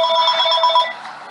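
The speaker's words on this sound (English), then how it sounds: "Oh, my phone." A phone rings with a steady electronic telephone-bell tone, loud and close, holding for about a second before easing slightly, with no talk over it.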